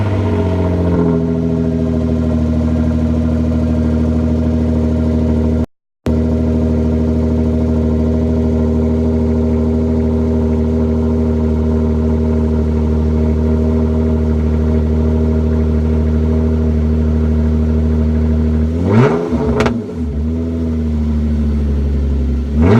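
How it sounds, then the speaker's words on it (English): A Genesis car engine cold-starts on an Arizona morning and settles into a loud, steady idle, with a short cut in sound early on and a brief rev near the end. "we're going to do a little cold start for the Genesis."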